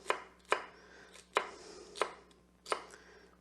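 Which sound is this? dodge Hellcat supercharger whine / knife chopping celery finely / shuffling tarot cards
knife chopping celery finely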